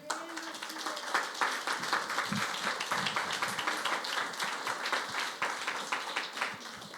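Applause from a church congregation fills the room, a dense, steady patter of many hands clapping at moderate level for the whole stretch, with a few voices faintly mixed in.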